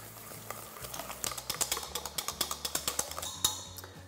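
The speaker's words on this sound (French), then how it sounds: "on ajoute le blanc d'œuf et bien mélanger tous les ingrédients" Sponge cake batter with added egg white is mixed in a bowl, heard as quick, rhythmic tapping and scraping strokes that speed up into a steady beat, quiet and close, with no speech.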